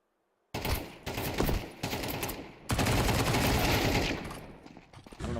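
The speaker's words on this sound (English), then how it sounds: "That wasn't a Nova. That was one of the tactical shotguns." Rapid, dense gunfire from a tactical shotgun in a Counter-Strike 2 match, loud and continuous with overlapping blasts and no pauses for several seconds.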